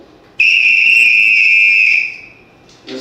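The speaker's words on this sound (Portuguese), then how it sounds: "é essencial o apito." A loud, sustained shrill whistle blast from Bumba Boi do Maranhão folk percussion music, lasting about a second and a half, then fading out, with a brief faint sound near the end.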